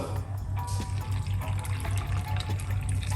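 Water runs steadily into a container with a splashing, trickling sound, fairly close, accompanied by a low steady hum underneath.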